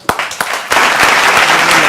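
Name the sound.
audience applause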